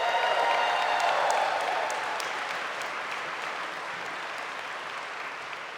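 An audience at a graduation ceremony claps, a dense ripple of applause that starts strong and gradually thins and fades, with no cheering.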